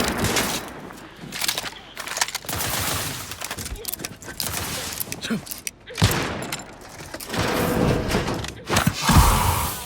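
Dense, continuous weapon fire and impacts from a combat encounter in the video game Outer Worlds 2, loud and sustained, with a player's voice talking over parts of it.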